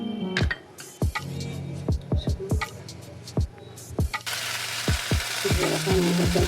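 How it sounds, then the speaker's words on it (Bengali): Panch phoron spices of cumin, coriander, nigella, fennel and ajwain fry in mustard oil in a pan, giving a steady close sizzle with a series of sharp utensil knocks and scrapes. The sizzle grows louder and fuller partway through. "সামান্য একটু ভেজে নেব।"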